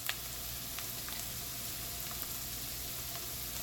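Hot pepper sautéing in a pan for shrimp scampi gives a steady soft sizzle with faint crackles and a low background hum, no talking.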